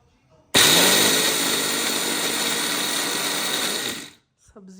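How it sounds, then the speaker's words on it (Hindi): An electric blender grinding coffee beans roars on abruptly, holds a loud, steady whirring drone for about three and a half seconds, then winds down and stops, with brief voices just before and after. "मैं कॉफ़ी ग्राइंड करूँगा इसमें"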